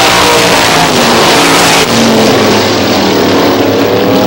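Race cars roaring around Star Speedway during a stock car race, engines loud and close in a continuous snarling drone that shifts slightly in pitch as the pack passes.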